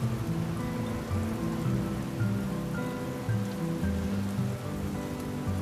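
Rain falls steadily on surfaces outdoors, a continuous dense patter at moderate level with no break across the whole stretch.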